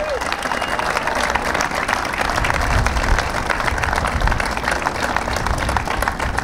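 An audience at an outdoor infrastructure event at the Tappan Zee Bridge in Tarrytown, New York, gives a dense, loud round of applause, continuous clapping with crowd noise mixed in throughout.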